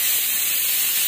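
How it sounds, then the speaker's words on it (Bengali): Potato peels fry in hot oil, giving a loud, continuous, even hiss and sizzle with no pauses. "ভাজাটা হতে থাক।"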